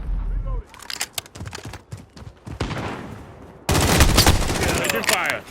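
Video game gunfire erupting in bursts of sharp shots, then a loud sustained fusillade of rapid automatic fire near the end, with voices calling out in between.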